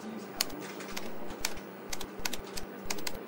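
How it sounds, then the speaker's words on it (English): Computer keyboard keys tapped in short irregular bursts while a job website address is entered, close and clear with steady room hum underneath. "Okay, so just type the job website address here."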